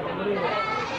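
Goats bleat close by at the Gondang Legi livestock market in Malang, East Java, a steady, wavering cry that fills the moment.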